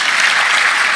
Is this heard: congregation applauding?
yes